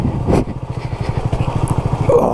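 A Honda CB250RS motorcycle runs on a slippery green lane, its single-cylinder engine chugging close by in a steady, low pulsing beat at modest throttle.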